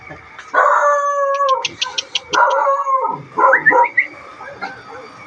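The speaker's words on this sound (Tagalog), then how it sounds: "So, yun guys, may aso." A dog barks and yips in a few sharp bursts close by, mixed with people talking and some whimpering tones.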